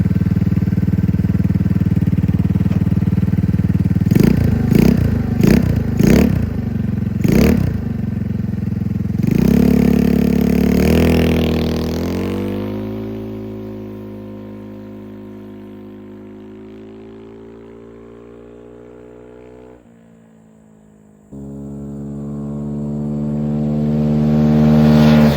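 A 50cc scooter fitted with a 150cc engine is ridden: idling, then a few sharp clicks before the engine revs up into a rising, droning whine that slowly settles. It drops off briefly and then climbs again, loud and close.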